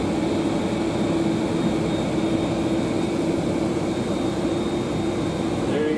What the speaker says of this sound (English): The pilot's shutting down the engines.